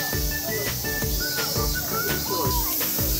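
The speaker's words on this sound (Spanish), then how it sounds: "escuchen nada más el sonido de verano de Japón. Las cigarras en su máximo esplendor." Cicadas buzz in a steady, dense summer drone in Japan near Jindaiji temple, with bird calls and some faint voices mixed in outdoors.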